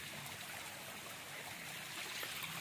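Steady rushing and trickling of a waterfall flowing down village hills after light rain, heard as a continuous, fairly distant watery wash with no voices.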